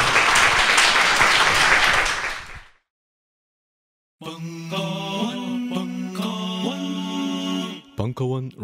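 A seated audience at a book talk gives the author a loud round of applause that lasts about two and a half seconds and then stops abruptly, followed by silence and then music.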